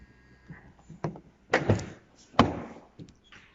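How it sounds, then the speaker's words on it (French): A Volkswagen Touran's hands-free door locking produces a few close, soft clicks and thunks, with two louder clunks in the middle of the sequence. "Pour verrouiller, vous appuyez sur cet espace-là."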